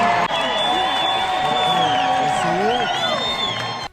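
Basketball arena crowd at a WNBA game cheering loudly and continuously, with whoops and voices layered over a sustained roar.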